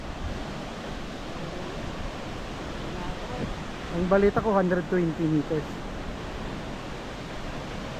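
A steady broadband roar of rushing water from Aw Asen Falls, a 120-meter waterfall in Region 1, Philippines, fills the clip, with a person speaking briefly over it midway.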